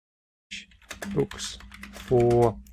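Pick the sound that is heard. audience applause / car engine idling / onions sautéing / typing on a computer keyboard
typing on a computer keyboard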